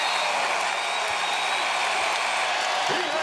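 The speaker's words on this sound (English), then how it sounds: "this crowd comes alive" Basketball arena crowd at a Bradley Braves at Southern Illinois Salukis college game roaring and cheering loudly and continuously as the home team takes its biggest lead, a dense, sustained wall of applause and shouts.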